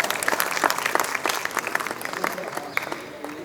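A crowded hall at a centenary tribute to Mohd Rafi and Raj Kapoor gives a guest a long, steady round of clapping, with many hands packed close together and an occasional voice underneath.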